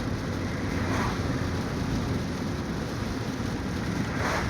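Rain drums steadily on a car's sunroof, a close, constant patter heard from inside the car, with no talking.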